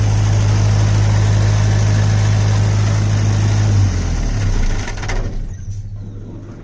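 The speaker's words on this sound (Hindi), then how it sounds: "तो हम इंजन को शट डाउन करते हैं।" A diesel generator engine idles with a loud, steady low rumble, then shuts down, the drone sagging and dying out over the final two seconds until near silence.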